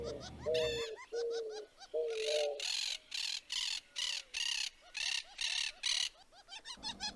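Monk parakeets perched in trees at a lagoon give loud, repeated harsh chattering calls in steady bursts, close and continuous, with other birds calling alongside.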